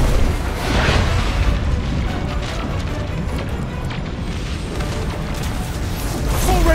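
Heavy booming blasts and rumbling from a missile explosion during a battle in the video game Destiny 2, loud and continuous with dense low rumble throughout.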